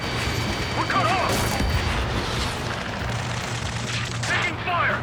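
Gunfire from a combat mission in Ace Combat 7, sounding as dense, continuous bursts and crashes throughout, with shouted voices over the shooting and a rising burst near the end.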